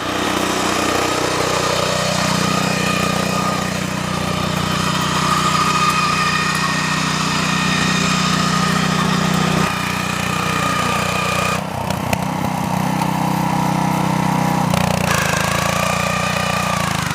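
A small engine runs loudly and steadily, its pitch shifting as it revs and settles, with a brief drop and rattle partway through.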